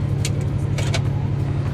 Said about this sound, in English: as the car is running, you want to make sure you have the heat on full blast